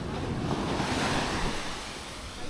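Surf and wind at Praia dos Tourinhos beach near dunes at sunset: a steady, loud wash of breaking waves mixed with gusty wind buffeting the microphone, easing slightly toward the end.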